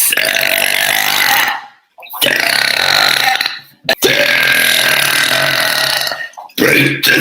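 A woman lets out long, deep, very loud burps, three drawn-out rumbling belches separated by brief pauses, close up and dominating the sound.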